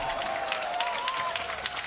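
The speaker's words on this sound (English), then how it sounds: "I was hearing a cheer in the background there." A crowd cheers and claps at an LEC esports match, a sustained roar with a rising chant-like tone in the middle, while a voice speaks faintly over it.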